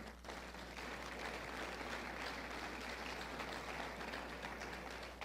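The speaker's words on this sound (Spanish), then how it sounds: "Démosle un aplauso al Señor con sus planes." A church congregation claps during a sermon, a steady even wash of many hands that starts abruptly and keeps up evenly to the end, faint and slightly distant over a low constant hum.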